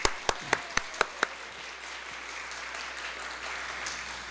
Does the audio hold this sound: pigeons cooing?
no